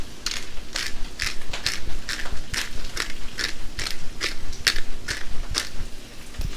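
A pepper grinder cracks pepper over eggs being seasoned for scrambling, giving a close, steady series of crisp crunching bursts at an even rhythm.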